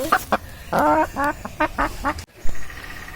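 A hen cackles and clucks after laying an egg, in a rapid, uneven series of loud calls close by, with a brief knock near the end.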